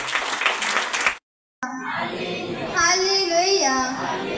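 Church congregation at a prayer centre clapping loudly in thanks to Jesus; a burst of crowd clapping cuts off briefly, then gives way to voices and children's chatter with tonal sounds over them.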